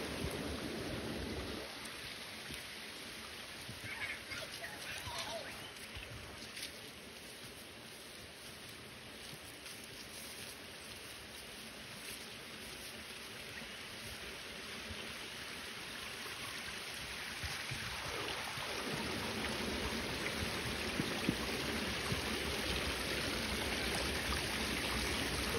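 Creek water flows and trickles steadily past a 100mm PVC pipe lying in the creek bed on a farm, a soft continuous babble heard alone with no talk.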